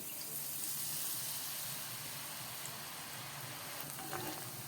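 Gram flour batter for laddu is frying in hot oil, giving a steady, close, continuous sizzle with fine crackling throughout, with no voices.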